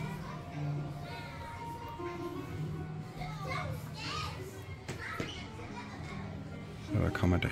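Children playing noisily on the upper deck of the galleon Andalucía, a jumble of young voices, shrieks and chatter echoing through the ship, with an adult voice and a louder burst near the end.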